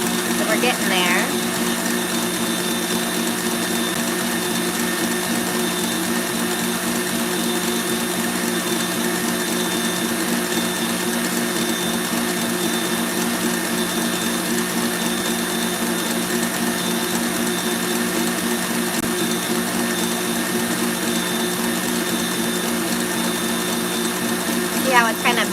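A stand mixer whisks macaron batter in a steady, even mechanical whir with a faint rattling rhythm. It runs unbroken and fairly loud throughout, and a voice speaks quietly beneath it.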